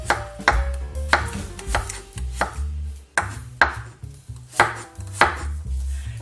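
A knife slices garlic thinly on a cutting board for dongchimi, with about a dozen crisp, evenly paced chops, each sharp and close, with no voices.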